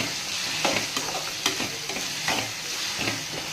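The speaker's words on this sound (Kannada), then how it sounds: "ಚೆನ್ನಾಗಿ ಫ್ರೈ ಆಗ್ತಾಯಿದೆ." Brinjal and tomato frying in a pan give a steady hiss of oil with the scrape of stirring returning every second or so, close up and with no voices.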